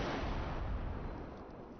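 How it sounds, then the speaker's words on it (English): Indoor gunshot fired beside an opening in a video game, a loud booming blast that fills the space and decays slowly over about two seconds, with no talk. "you don't just hear the indoor gunshot."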